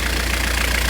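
A cold-started Ford Escort Mk6 Finesse petrol engine idles steadily, a close, even low rumble with a faint rhythmic knock running through it and no voices.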